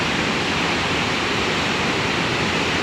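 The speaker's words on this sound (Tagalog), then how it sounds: "Kakatakot yung current ng tubig, ang lakas." Strong water current rushing at a hidden waterfall in Luisiana, Laguna, a steady broadband roar that stays loud and unbroken throughout, with no voices.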